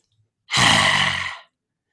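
A single forceful, drawn-out breath of about one second during a yoga inner fire breathing exercise, close and loud, with a rushing airy texture and no talking.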